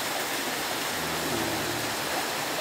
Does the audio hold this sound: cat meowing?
no